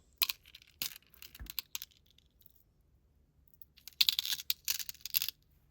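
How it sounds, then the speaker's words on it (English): Cutters snip a strand of beads for purple dangle earrings, giving a few sharp, sparse clicks followed by a denser burst of small clicks and rattles near the end, close up with no talk. "I'm just going to use my cutters to do that"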